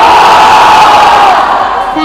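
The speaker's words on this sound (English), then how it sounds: "you all will scream Shandar damn loudly" A party crowd at a Closeup launch event roars and screams loudly in one sustained, dense wave of voices, close and filling the space.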